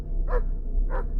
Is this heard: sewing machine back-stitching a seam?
no